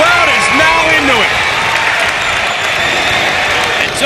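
A basketball crowd at a 2006 high school game cheers and applauds loudly and steadily, a dense wash of clapping with shouts and whistles rising early, with no clear speech heard.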